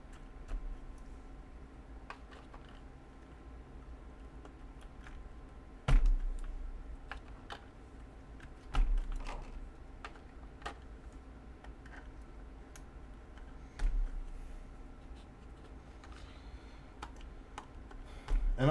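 Typing on a mechanical keyboard fitted with URSA OEM-profile keycaps, a quiet, steady run of close clacking keystrokes with a few louder thocks of the spacebar or bottoming out, no voices.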